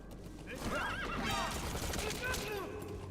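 D-Horse, the horse companion in the stealth video game Metal Gear Solid V: The Phantom Pain, whinnies loudly and steadily with hoof clip-clops beneath, set in a busy game mix with someone talking over it.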